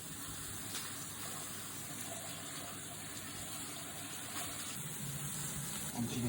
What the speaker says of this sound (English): cover it with cold water, and again, plenty of salt